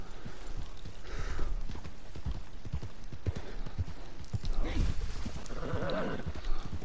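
Hooves clip-clop steadily as a horse is ridden in Red Dead Redemption 2, a soft rhythmic patter in the game world with ambient sounds around it.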